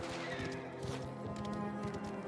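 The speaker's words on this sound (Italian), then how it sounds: "Bellissima la fuga a cavallo." A horse gallops in the video game Mafia: The Old Country, its hooves beating out a fast, steady clip-clop under a continuous, busy background of game sound.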